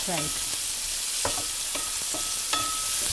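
Chopped onion frying and being stirred in a hot pan while making shahi paneer, a steady close sizzle broken by several scraping stir strokes and clinks of the utensil, with no talking.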